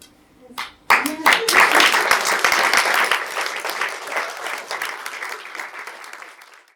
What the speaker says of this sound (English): That's a clap.